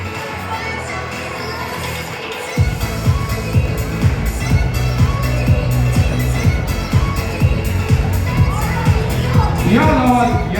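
A crowd at an Estonian bodybuilding and fitness cup claps and cheers for junior bikini fitness competitors, bursting in after a quiet opening and staying loud and dense, with an announcer's voice running over it.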